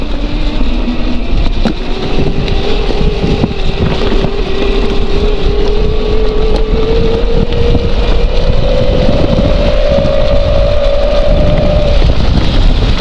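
A 48V electric vehicle with a 900Wh battery accelerates in a single gear on a slippery surface, its motor whine rising steadily in pitch under constant wind and road rumble, loud and close.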